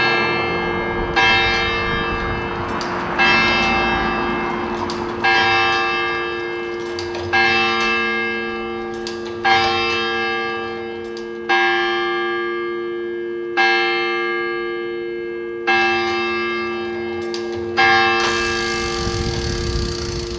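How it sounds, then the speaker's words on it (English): A large bell in a historic town clock tower strikes repeatedly at a slow, even pace, each loud metallic stroke ringing out and decaying before the next, heard up close alongside a steady mechanical hum. "This setup controls the workings of the clock, as well as the bell chimes."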